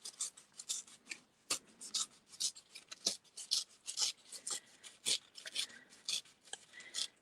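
Paper is torn by hand for a scrapbook page, giving quick, close, soft bursts of tearing and rustling in an uneven rhythm, quiet against near silence.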